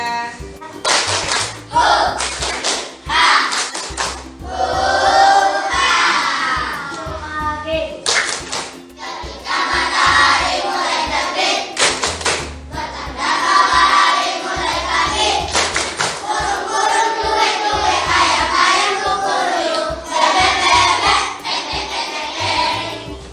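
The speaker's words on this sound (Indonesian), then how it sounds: "setelah berdoa kita melaksanakan rutinitas untuk tepuk semangat dan tepuk pagi" Schoolchildren clap in patterned bursts, sharp and loud, interleaved with voices calling out together in a chant-like morning classroom routine.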